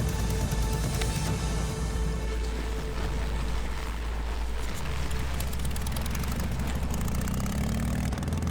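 A Russian Ural motorcycle engine runs steadily at close range for several seconds, a continuous low throbbing drone with a slight shift in pitch partway through, no voices over it.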